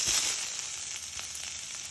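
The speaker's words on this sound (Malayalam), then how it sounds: "കറിയിലോട്ട് ഉള്ളി വറുത്തിട്ട് കൊടുക്കുക" Oil sizzles and crackles steadily as onions fry in a pan after mustard seeds, for a drumstick and prawn curry, close and continuous, with no talking.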